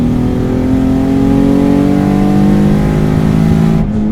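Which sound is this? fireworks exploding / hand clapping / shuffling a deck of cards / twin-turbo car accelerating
twin-turbo car accelerating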